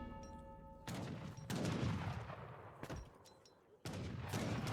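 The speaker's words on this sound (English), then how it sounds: "There goes that shotgun ability." A charged shotgun ability attack in the Age of Empires III strategy game, several loud booming gunfire volleys in quick succession separated by short gaps, with battle noise between blasts.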